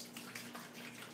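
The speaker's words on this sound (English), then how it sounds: "I'm going to pour it in." Liquid for homemade mead, an old-fashioned honey wine, is poured into a container, giving a brief, soft, steady splashing stream up close.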